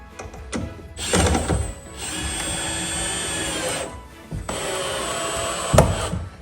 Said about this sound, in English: we go ahead and put a screw there